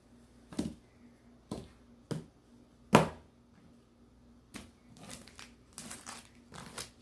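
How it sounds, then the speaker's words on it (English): Tarot cards being cut and shuffled, a series of sharp papery snaps and riffles spaced apart, then a busier cluster of crisp card flicks toward the end, close and alone with no talk. "Let's go ahead and cut these cards"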